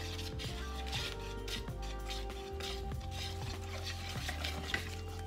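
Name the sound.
whisk stirring water into batter in a bowl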